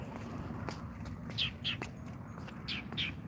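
A northern mockingbird in southern Nevada gives a handful of short, bright chirps, loosely spaced over a faint, low outdoor background.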